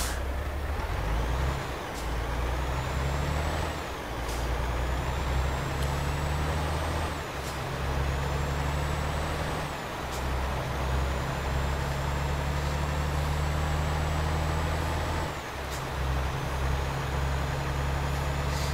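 Virtual truck in Euro Truck Simulator 2 pulling uphill in first gear, a steady loud diesel drone with repeated sharp air-brake hisses and rising whines at regular intervals, no voices.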